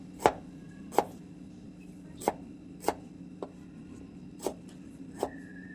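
Sharp, separate pokes into large raw potatoes, about eight crisp knife-like stabs at uneven intervals, close and fairly soft over a steady low hum, with no talking.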